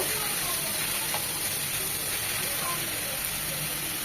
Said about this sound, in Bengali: একদম ভাজা ভাজা হয়ে গিয়েছে,